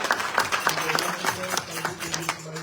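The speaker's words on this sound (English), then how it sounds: "So give Pandit Ram a big round of applause." A round of applause for a temple priest during a Navaratri night gathering at a Hindu mandir, with clapping throughout and a voice carrying over it.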